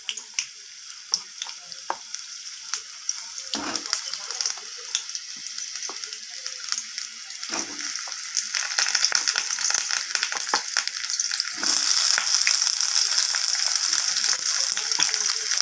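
Cut papaya dropped into a small amount of hot mustard oil in a wok, a steady bright sizzle that grows louder and denser partway through, with scattered clicks and crackles.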